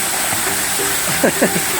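At a warm-water resort pool, a waterfall pours with a steady, close, broadband rush, while people talk faintly beneath it.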